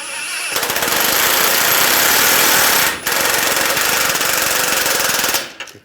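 A power tool rattles hard while tightening a tie rod nut on a 2011-2018 Ram 1500 front steering knuckle. Two loud, close bursts of rapid hammering are split by a brief pause, then the tool cuts off.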